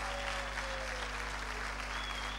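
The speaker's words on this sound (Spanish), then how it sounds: "Un fuerte aplauso." Audience applause at a church celebration for an apostle, a steady wash of clapping at low level, with a constant electrical hum beneath it and no talk.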